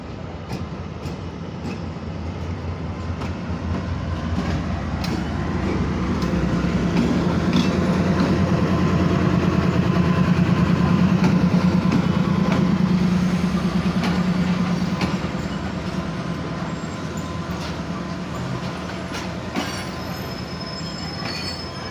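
Pak Business Express, hauled by an AGE 36015 locomotive, rolls through Kot Lakhpat railway station with a steady loud rumble of wheels and cars that swells to a peak and then fades, with occasional squeals and clicks over the rails.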